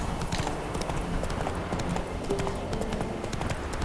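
Hooves of a horse in The Witcher 3 clip-clopping at a fast, steady gallop in the game, a dense, even rhythm of close, moderately loud hoofbeats with no voices over them.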